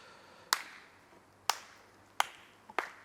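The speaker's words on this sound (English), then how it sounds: "And a slow clap." Four slow, separate hand claps from spectators at a disc golf championship round, sharp and fairly close with long gaps between them, ringing over quiet outdoor ambience.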